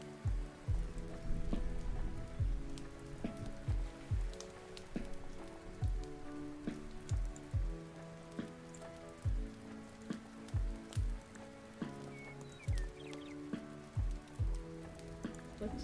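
Steady rain ambience with drips and patter, mixed with a sustained musical bed and regular soft thumps, continuous and moderately quiet throughout.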